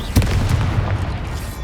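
Bombarda explosion spell from Hogwarts Legacy: a sharp, heavy boom bursts near the start, followed by rumbling debris and crackle that slowly thin out.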